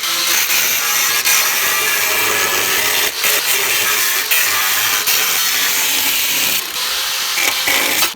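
A reciprocating saw (Sawzall) cuts through plastic, a loud, continuous buzzing rasp that runs steadily for the full stretch with only brief dips, close up and with no talk over it.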